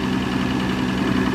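A diesel power generator set up to run with natural gas backing, giving a steady close idling engine drone with a low mechanical hum and slight vibration throughout.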